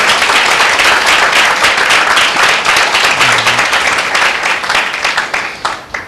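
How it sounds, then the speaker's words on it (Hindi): A church congregation at a Sunday service claps loudly and vigorously together, a dense, sustained burst of applause that tapers slightly near the end. "आप और मैं प्रभु के साथ साथ एक जोरदार प्रभु के लिए ताली बजाएंगे"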